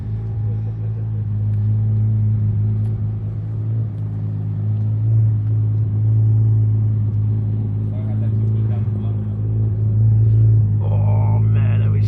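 A single-turbo BMW 335i with an N54 engine rumbles nearby, a deep, steady low idle drone that swells slightly in places, with voices talking faintly over it.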